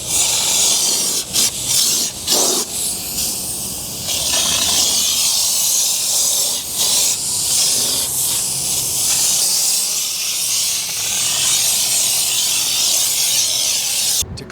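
A spray gun applies solvent-based stone guard coating to the underside of a vehicle, a steady loud hiss running almost continuously with brief pauses between passes, no talking.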